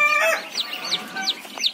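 Day-old kampung chicks peep in a coop, a quick series of high, thin chirps repeating at close range.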